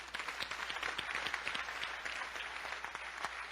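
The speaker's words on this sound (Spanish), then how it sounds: "Un aplauso al Señor." A church congregation applauds at a sermon, producing a steady, moderately distant wash of many hands clapping. It continues without a break and no voices rise above it.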